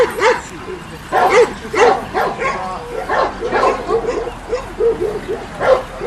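Several Macedonian Karaman shepherd puppies, three to six months old, bark and yip in short repeated bursts at a dog show, fairly close, with people talking in the background.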